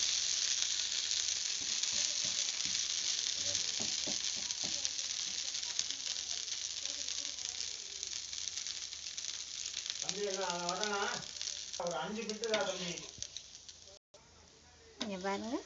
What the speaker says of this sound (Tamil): நமக்கு 2 சைடும் போட்டு எண்ணெய் ஊற்றிருக்கேன்.